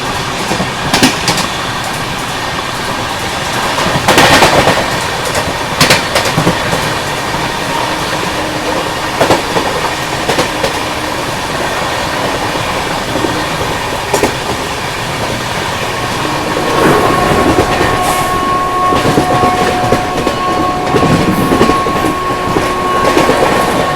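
The Sampark Kranti Express runs at speed while overtaking the Shaktipunj Express, heard as a loud, constant rumble and rattle of rail wagons, rhythmic clickety-clack and a thin wheel squeal later on, with no one speaking.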